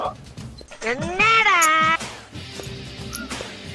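A pet cat meows indoors, one clear drawn-out rising-and-falling meow near the microphone, preceded and followed by softer shorter calls, with a person talking around it.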